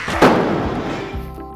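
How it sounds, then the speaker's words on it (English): Goal cannon firing at Nationwide Arena during a hockey game, a single sharp loud boom that rings out and decays over about a second in a large reverberant arena. "overall, the cannon is pretty cool."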